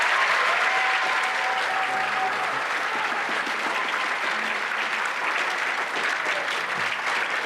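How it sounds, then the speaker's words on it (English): A school concert audience gives a middle school jazz band a big round of applause, thick continuous clapping filling the room at full strength throughout. "Give those kids a big round of applause."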